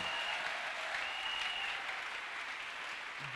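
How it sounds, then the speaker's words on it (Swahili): A church congregation bursts into sustained, dense applause, a steady wash of many hands clapping together without pause. "Unaweza kumchapia Bwana makofi."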